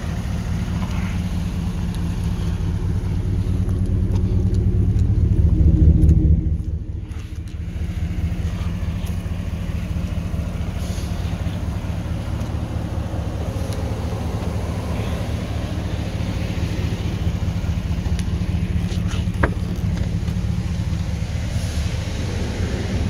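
A jacked-up four-wheel-drive 2015 Chevrolet Silverado LTZ Z71, a Tuscany Badlands custom edition, idles with a steady low engine rumble that swells briefly before settling into a constant drone.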